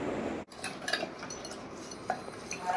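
Metal utensils and dishes clink a few times in a home kitchen while lassi is being made, light sharp taps scattered over a low background.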